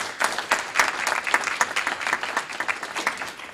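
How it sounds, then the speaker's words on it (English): A crowd applauds, with steady, moderately faint clapping continuing throughout. "Let's give them a round of applause."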